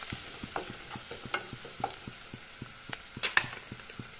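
Salt, turmeric and chilli powder fry in oil in a pan, giving a faint sizzle under a steady rhythm of spoon scrapes and taps as they are stirred, with no voices.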